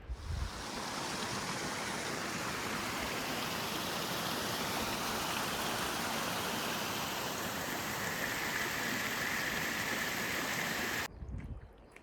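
A waterfall on the Grinnell Glacier Trail makes a constant, loud, broadband rush of falling water that holds steady for about eleven seconds before cutting off abruptly.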